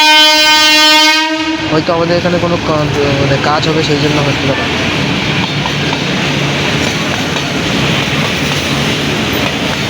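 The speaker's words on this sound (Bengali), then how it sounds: "ইলেকট্রিক লোকোমোটিভ রয়েছে উইথ ব্যাংকার" An electric locomotive hauling a goods train with a banker engine on Indian Railways' Gede section sounds a loud, sustained horn, then wagons rumble and clatter past close by with a steady rhythmic clack while someone talks over it.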